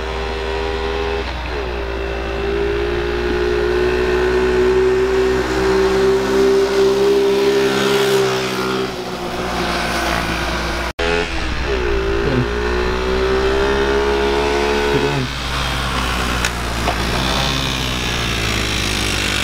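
Quad ATV engine after a top end rebuild, idling then revving hard in two rising and falling bursts, loud and close with a raspy buzzing tone and a brief cut midway.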